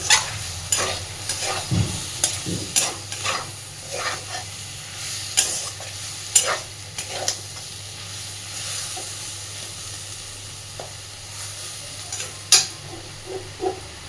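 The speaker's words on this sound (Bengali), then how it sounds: "এইবার মিডিয়াম ফ্লেমে গ্যাসটা দিয়ে আস্তে আস্তে সুন্দর করে ভেজে নেব" Fish fat frying on a gas stove over medium flame, a low steady sizzle broken by repeated scraping stirs throughout.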